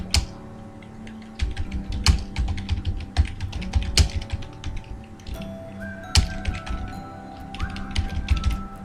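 An address is typed into MS Word on a computer keyboard: rapid, uneven clicks of keys close by, with occasional heavier key thumps and short pauses, and no talking.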